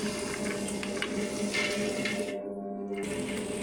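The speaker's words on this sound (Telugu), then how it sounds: "ఇలా వాటర్ మొత్తం శుభ్రంగా కారిపోవాలండి" Water draining and trickling from soaked lentils in a kitchen while masala vada batter is being made, a steady close splashing stream with a brief break near the end.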